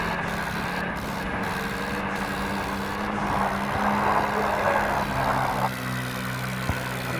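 A tractor engine in the mobile game Indian Vehicle Simulator 3D, the trailer loaded with areca nuts, holds a steady low diesel drone with slight swells, heard alone and close without any talk.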